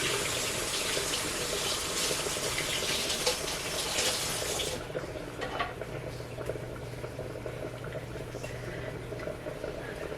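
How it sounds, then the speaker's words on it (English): Water runs from a kitchen tap as hands are washed mid-way through Thanksgiving dinner prep, a steady broadband rush that stops abruptly about halfway, leaving quieter room noise and a faint low hum. "Let me wash my hands 1 second"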